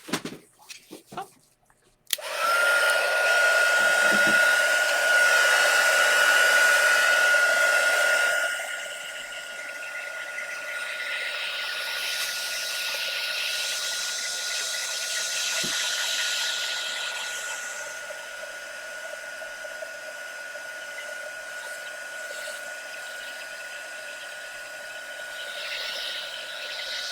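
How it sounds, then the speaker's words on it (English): A heat tool blows hot air over fresh paint on a craft box, switching on with a click and then a steady loud airy whoosh with a thin whine, softening slightly as it moves. "I'm going to use my heat tool and then we'll dry it up real quick"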